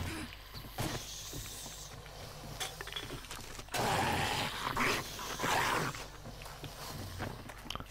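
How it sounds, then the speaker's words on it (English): A dog in the video game 7 Days to Die lets out brief growls and whimpers amid creaking, clattering game noise and footsteps, with a louder rush of sound in the middle of the stretch. "That dog gave me such a heart attack."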